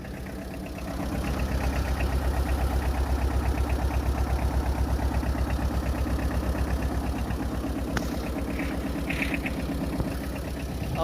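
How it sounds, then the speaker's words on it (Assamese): A second-hand Tata Ace Ex mini truck idles steadily after starting, its diesel engine giving a loud, even, rhythmic knocking chug close by, running alone for several seconds. "আৱাজটো শুনক গাড়ীখনৰ, আপোনালোকে আৱাজটো শুনিলেই গম পাই যাব।"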